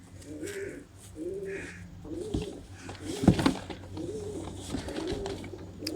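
A pair of Indian pigeons coo in repeated low, throaty phrases, close and steady, with a brief louder flutter or knock in the middle.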